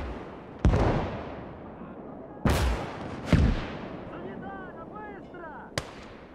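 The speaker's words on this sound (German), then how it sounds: "Feindliches Maschinengewehr!" Gunfire in the World War II strategy game Call to Arms: Gates of Hell: a few sharp, separated shots ring out over several seconds against a low battlefield rumble, with brief voice callouts.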